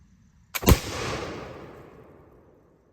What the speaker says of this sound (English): I'm firing off my musket